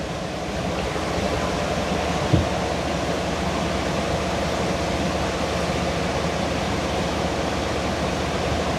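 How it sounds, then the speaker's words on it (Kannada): Water falling without a break at an ice factory in Malpe makes a dense, even rushing roar. It is loud and steady throughout, with one small knock partway in and no talking. "ಅಲ್ಲಿ ನೀರು ಬೀಳ್ತಾನೆ ಇರ್ತದೆ,"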